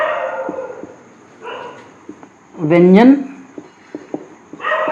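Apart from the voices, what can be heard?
dog barking outside the gate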